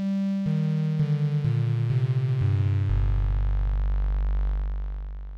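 Sine wave from an Ensoniq EPS-16 Plus synthesizer given a slight edgy rattle, played as a series of stepped notes falling in pitch, ending on a long low buzzing tone; loud and alone.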